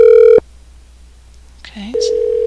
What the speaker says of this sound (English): we'll see if it takes 20 seconds to dial again